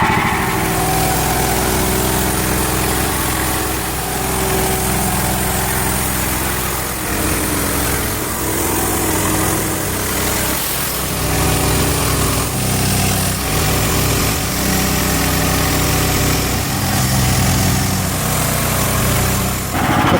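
Sawmill engine running steadily and loud while one-inch boards are ripped from a log, a continuous droning motor with slight shifts in load and no talk.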